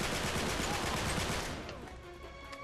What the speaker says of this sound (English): Alright, someone's shooting at me